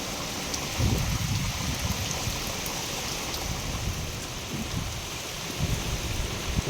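Heavy rain pours down during Cyclone Remal in the Sundarbans, a dense, steady hiss of downpour drumming on surfaces with no voices.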